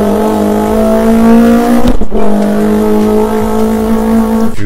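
A human voice imitates a Subaru WRX with a performance exhaust, producing a loud, close, sustained engine-like drone that revs and dips with a brief break in the middle.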